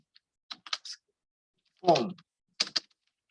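Computer keyboard typing in quick, close clicks: a short cluster, a brief low burst partway through, then a final pair of sharp keystrokes like the Enter key being pressed.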